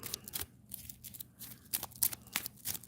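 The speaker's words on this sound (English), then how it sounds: "One last little itty bitty shuffle here." Final Fantasy VII Magic: The Gathering trading cards are shuffled close up in quick crisp riffling bursts, a few short flurries of snapping card edges with brief pauses between.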